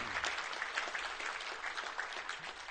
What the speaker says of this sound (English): So huge round of applause for everybody.